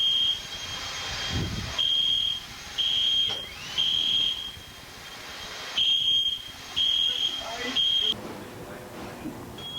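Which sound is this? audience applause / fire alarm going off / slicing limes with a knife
fire alarm going off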